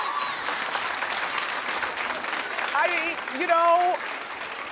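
A studio audience on a talk show breaks into dense, continuous clapping that fills the room, while a voice speaks briefly over it and a few whoops or vocal tones rise near the end.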